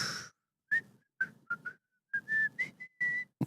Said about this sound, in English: I'm getting better at whistling.